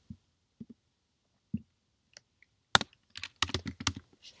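Typing on a computer keyboard while entering a spreadsheet formula: a few sparse isolated key presses, then a quicker cluster of sharper clicks, quiet and close.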